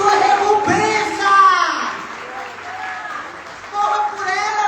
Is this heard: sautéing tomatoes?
no